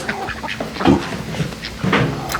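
Several ducks quack at feeding time in short, overlapping bursts close by, a busy chorus of nasal calls with no pauses.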